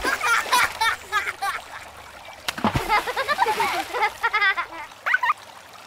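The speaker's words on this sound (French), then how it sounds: "Ils pataugent dans la rivière et s'amusent autour de petits rochers." Children wade and splash in a river among small rocks, with irregular bursts of splashing and sloshing water, close and lively, alongside bright voices.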